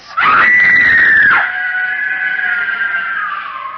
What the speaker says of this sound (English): The girl, screaming with rage, turned on him and buried her nails in his face